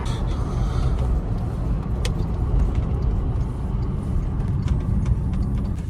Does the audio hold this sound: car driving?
yes